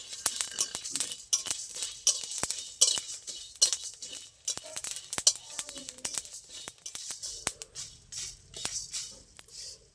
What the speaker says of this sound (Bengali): এই দেখুন মশলাটা ফুটছে, কিন্তু বেশিক্ষণ নাড়া যাবে না, তাহলে তিতো হয়ে যাবে।